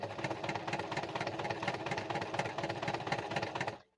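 A sewing machine runs slowly but steadily through stitches on a lace pocket for a butterfly junk journal, giving an even mechanical chatter with no talking.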